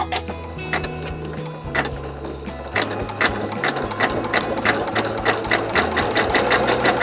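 A sewing machine stitches a rope bowl, running loud and close with a steady mechanical whir and rapid needle clatter through the whole stretch.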